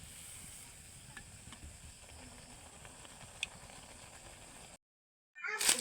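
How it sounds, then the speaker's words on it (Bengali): Fuljhuri pitha sizzling in hot oil, a steady low frying hiss with faint crackles and pops running for several seconds before a brief silence, then a louder burst of sizzle near the close. "দেখেন পিঠাগুলো ভাইজা সব বানাই নিয়ে আসছে আম্মু"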